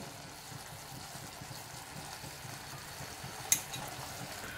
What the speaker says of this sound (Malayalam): 1-2 മിനിറ്റ് ഇതുപോലെ ഒന്ന് ഇളക്കി കൊടുക്കാം